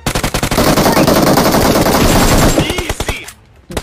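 Rapid automatic gunfire in PUBG Mobile, a loud sustained burst of close shots that ends with a few scattered rounds and a brief quiet moment.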